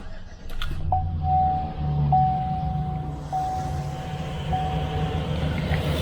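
A Chevrolet Silverado 2500HD truck engine idles with a steady low rumble while a thin, sustained belt squeal rises above it, breaking into short repeated chirps at a steady pace across the clip.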